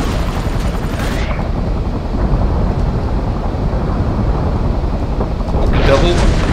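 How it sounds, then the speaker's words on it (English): Broforce video game explosions form a dense, continuous roar of booms and blasts with heavy low rumble, loud and near throughout, with a brief high hiss near the start and again at the end. "So many explosions, it's There's, hard to see where you are."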